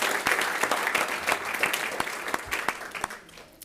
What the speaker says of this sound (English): So big round of applause real quick.